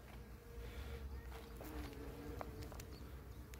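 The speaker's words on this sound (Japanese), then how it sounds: "ミツバチが大量にいますよ、この植物。" Honeybees hum around a flowering plant beside a lake in Belgium, a soft steady buzzing drone lasting throughout, faint and close, with light outdoor background noise and no talking.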